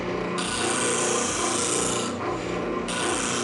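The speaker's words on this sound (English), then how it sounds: "when I use a spindle sander or any sander, I never want to stop moving my board while I'm in contact with that spindle" A spindle sander grinds against a wooden board in a loud, rough, rasping rub, its sound surging and easing as the board is moved along the spinning drum.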